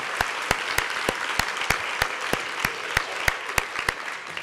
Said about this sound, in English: I think we should give everyone a round of applause for participating.